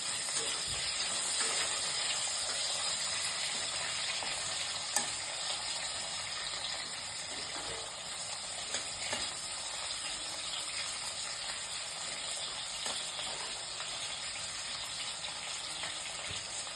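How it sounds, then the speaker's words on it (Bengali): Potato pieces fry in hot oil with cumin, set for a papad curry, giving a loud, steady, dense sizzle throughout with occasional soft scrapes of a spatula stirring them. "আলুগুলো ভেজে নেবো।"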